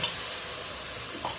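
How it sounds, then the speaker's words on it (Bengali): Spice paste frying in oil in a pan for a Bengali bhetki fish curry, giving a steady, close broadband sizzle with a faint stirring scrape near the end and no voices. "মশলাটা ভালোভাবে কষানো হয়ে গেছে, মশলা থেকে হালকা তেল রিলিজ করতে শুরু করেছে।"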